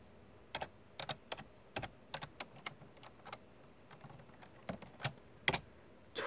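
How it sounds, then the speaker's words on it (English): Slow, uneven keystrokes on a computer keyboard while entering a program in DOS BASIC: close, crisp clicks arriving in small clusters separated by pauses, with a faint room hiss and no talking. "Now, I'm typing slow because I have to hold"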